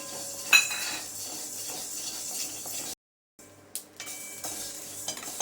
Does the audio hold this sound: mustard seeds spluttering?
yes